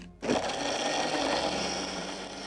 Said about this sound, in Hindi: दूध और क्रश्ड आइस, बर्फ इसके साथ इसमें डालें, और इसे एक बार फिर ब्लेंड कर लेते हैं हम।